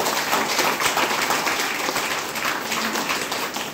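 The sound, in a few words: audience applauding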